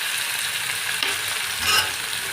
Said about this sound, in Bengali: এবার ভালো করে মাশরুমটা মশলার মধ্যে একটু ভেজে নেবে।